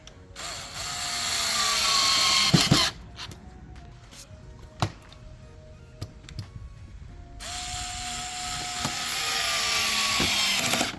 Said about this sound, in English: now we're going to screw in the corner brace